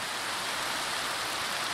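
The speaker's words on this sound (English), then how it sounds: "Oh, it's raining again." Steady rain pours down in the Minecraft video game during a sudden constant downpour, a soft, even hiss of falling drops for a brief moment with no voices over it.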